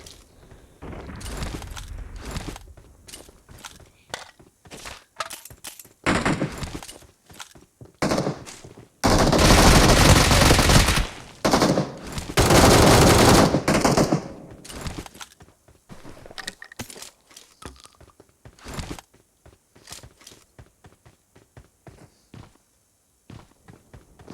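A PP-Bizon submachine gun fires in a video game in rapid automatic bursts, with two long sustained volleys in the middle, between short clicks and footstep-like taps; no talking.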